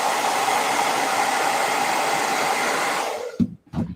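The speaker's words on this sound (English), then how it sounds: "now you let that hit this with a blow dryer" A hair dryer blows steadily at close range on a painted miniature model, a loud, even rushing whir that holds for about three seconds, then cuts off, leaving brief handling knocks.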